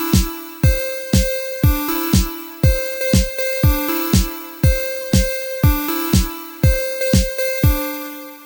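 A simple synth lead made in FL Studio plays short plucked notes in a steady repeating pattern, each paired with a punchy kick drum. The notes sit loud and up front, with no voices.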